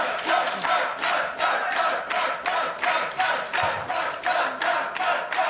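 A large esports arena crowd of G2 fans at a League of Legends final cheers and chants loudly in a steady rhythmic pulse of repeated shouts, close and continuous.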